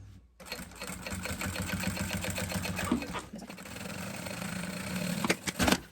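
A sewing machine runs steadily, stitching synthetic material for a travel toiletry bag, with a close, even rapid needle rhythm lasting several seconds, a brief pause midway, and a few clunks as it stops.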